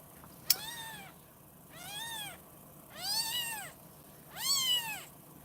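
Several kittens meow in turn, four rising-and-falling mewing calls spaced about a second apart, fairly close and clear over a soft background, with one sharp click near the start.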